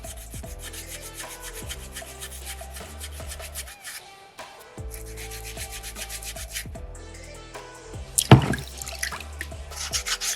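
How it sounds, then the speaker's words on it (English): Soapstone being carved by hand with small tools, a close run of rhythmic scraping and rubbing strokes, with wet drips and a sharper knock near the end. "Just carving into that stone."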